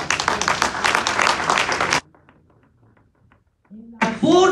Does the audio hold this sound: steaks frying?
no